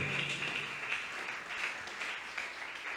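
A church congregation claps together in sustained, moderately quiet applause that carries evenly through the whole stretch.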